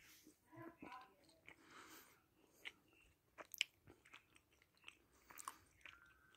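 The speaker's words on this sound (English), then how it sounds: "First bite going in." Biting into and chewing a Whittaker's 33% cocoa peanut butter chocolate bar, with soft close crunches and mouth sounds in an irregular rhythm, joined by brief speech.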